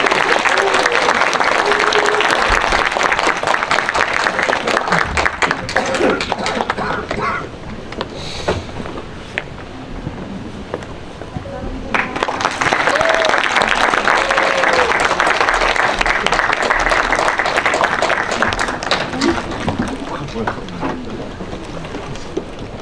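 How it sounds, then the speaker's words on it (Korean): An audience at a Korean film preview screening and talk claps loudly and densely, a sustained roar of applause that dips briefly midway and then swells again, with a host's voice heard over it. "두 분의 배우님 그리고 감독님께 저희 함께 박수 치면서 이 자리 마감하도록 하겠습니다."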